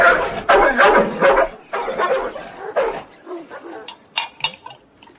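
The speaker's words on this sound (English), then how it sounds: "He flaps it about and slaps it up and down on the turf, just out of reach, and the dog goes mad." A dog driven wild by a piece of meat slapped on the turf just out of reach barks in loud, rapid, excited bursts, then trails off into yips and whimpers.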